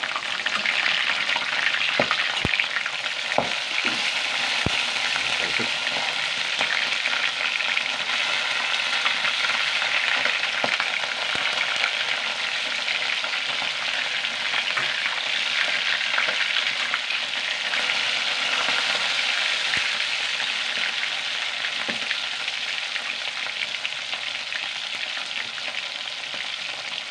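Matambaka fish frying in hot oil, a steady dense sizzle running loud and unbroken throughout, with scattered sharp pops and crackles.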